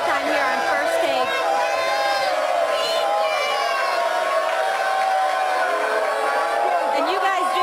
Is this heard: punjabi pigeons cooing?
no